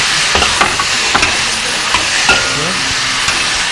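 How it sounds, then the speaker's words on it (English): Chopped pork butt is stir-fried over a high-heat burner, giving a loud, roaring sizzle with a steady hiss and intermittent clanks of tossing, and no one is talking. "Okay, so we're gonna stir fry this again."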